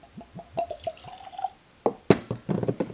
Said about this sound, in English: The lefty pour.